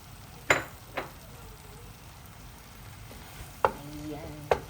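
Marinated chicken for pansit frying quietly in a pan, a faint low sizzle punctuated by a few sharp clinks and taps of a utensil against the pan.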